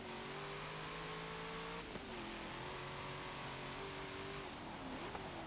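A 2016 Cadillac CTS-V sedan racing in Forza Motorsport 7, its engine refitted with twin turbochargers in place of the supercharger, revs loudly and steadily, pitch rising, dipping briefly at gear shifts, then climbing again, close and continuous with no talk.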